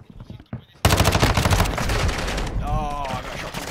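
Rapid automatic gunfire from the Modern Warfare 2 beta in a third-person mosh pit match, loud and dense bursts after a quieter start, continuing steadily with a ringing tail near the end.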